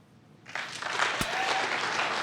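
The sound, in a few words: audience clapping hands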